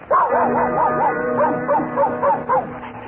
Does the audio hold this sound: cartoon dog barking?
yes